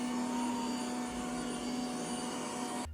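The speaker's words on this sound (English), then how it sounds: "the damn robot vacuum keeps going off" A robot vacuum cleaner runs indoors in a small studio, giving a steady whirring motor hum with a faint high whine that holds constant and cuts off abruptly at the end.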